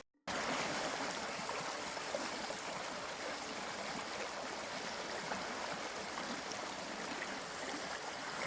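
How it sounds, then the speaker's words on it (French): River water at the Montvicq water intake rushes and slaps against rocks in a constant, even wash of noise with no voices, heard from nearby. "entendre l'eau claquer contre les rochers"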